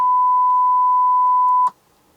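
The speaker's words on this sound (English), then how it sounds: "Then I hear a beep where the speaker is." A steady electronic test beep plays through a car speaker while the speaker wiring of a 2005 GM Tahoe is mapped for an aftermarket sound system. It holds one clear, even pitch for about 1.7 seconds, then cuts off abruptly into near silence.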